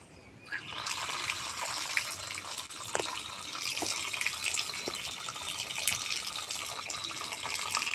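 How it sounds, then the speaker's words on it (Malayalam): Water runs from an outdoor tap as feet are washed beneath it: a steady close splashing stream with a few sharper drips and splatters, no talk. "പൈപ്പും ചോട്ടി വന്ന് കാലൊക്കെ കഴുകാം"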